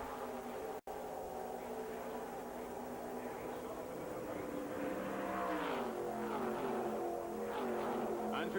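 IROC race cars at Daytona Speedway in 1994 roar in a steady engine drone that swells and climbs in pitch toward the end, loud and continuous, as the field heads into the first turn.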